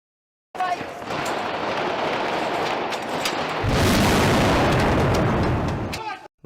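Explosions from Iranian kamikaze drone strikes on Kyiv on October 17: a loud, sustained broadband roar that grows heavier and deeper partway through, then cuts off abruptly.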